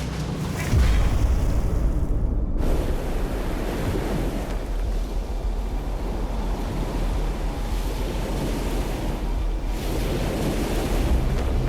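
Ocean surf roaring continuously at a seashore, a steady heavy wash of breaking waves with wind buffeting the microphone, loud and with no voices.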